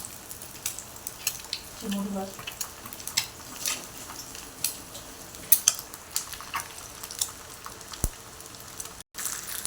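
An omelette frying in a pan, a soft steady sizzle with occasional clinks of a utensil against the pan, close by and fairly quiet.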